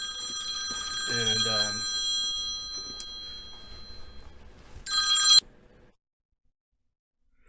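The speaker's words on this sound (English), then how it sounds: "We got interrupted by a important phone call I had to take." A telephone rings with bright electronic trilling tones, followed by a short final burst of ringing that stops abruptly before a stretch of near silence; a voice briefly sounds over it.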